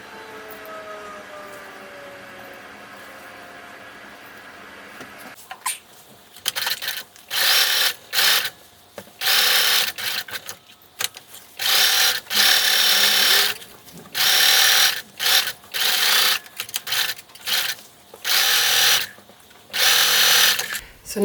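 A sewing machine stitching the bottom edge of a Christmas stocking runs in repeated loud rattling bursts of a second or two, stopping and starting, after a quieter opening stretch with a faint voice.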